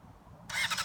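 A 2005 Honda CBR600RR middleweight supersport motorcycle engine starts: quiet background, then a sudden whirring, pulsing burst of starter and engine noise about halfway through, close and fairly loud.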